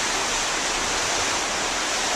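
A waterfall pours just outside a cruise ship stateroom balcony at Milford Sound, a loud, steady broadband rush of falling water that fills the whole moment without a break.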